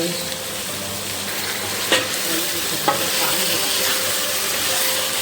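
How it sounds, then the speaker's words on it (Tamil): Tomatoes and onions sautéing for vegetable biryani, a loud, steady sizzle with stirring scrapes and two sharper utensil knocks, close-up and continuous with no talk. "தக்காளி வெங்காயம் இதெல்லாம் வதங்கின பிறகு வதங்கும் போதே கொஞ்சம் உப்பு போடணும்."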